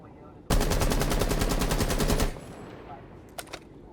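Full-auto gunfire from a shield-equipped operator in Rainbow Six Siege, a loud unbroken rapid burst lasting almost two seconds, then quiet with two brief faint clicks afterward.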